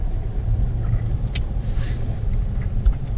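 A 2020 Kia Sportage with an all-wheel-drive 1.6-liter petrol engine cruises along, giving a steady low rumble of road and engine noise from inside the cabin, with no talk.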